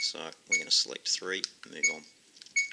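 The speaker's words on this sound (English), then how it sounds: "Beep sound, that's that annoying beep sound you can hear right now." Short electronic beeps from a dash camera's settings menu chime out several times in quick succession, tonal and clear, interleaved with someone talking through the menu options.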